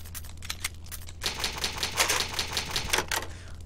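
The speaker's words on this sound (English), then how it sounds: "An old typewriter. You can save your progress." An old typewriter save-point sound from the Resident Evil HD Remaster video game: a rapid run of crisp mechanical key strikes and clacks, close and clear, with no talking.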